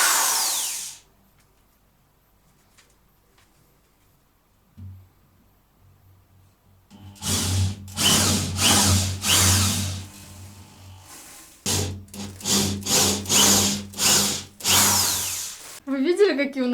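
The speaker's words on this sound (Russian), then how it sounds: "И будет сейчас засверливать отверстие." A power drill bores a hole into a load-bearing apartment wall in a series of loud, close bursts, with short pauses between them and a low hum underneath.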